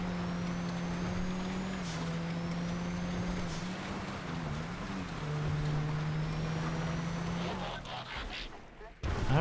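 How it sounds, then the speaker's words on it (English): A police road cruiser in GTA 5 drives with a steady, droning engine hum that wavers and dips briefly midway, then settles again before a burst of rough noise near the end. "This police road cruiser does not."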